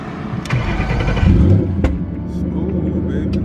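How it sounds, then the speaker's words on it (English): A car's engine cranks and catches after a battery replacement, with a loud burst of low rumble mid-clip before settling into a steady idle; a voice is heard briefly. "Let's see if the car can start by itself without a jump."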